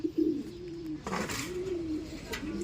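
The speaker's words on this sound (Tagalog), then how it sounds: "Ayan yung mga ibang young bird natin." Young racing pigeons coo softly in a loft, several low throaty calls rising and falling one after another over faint background noise.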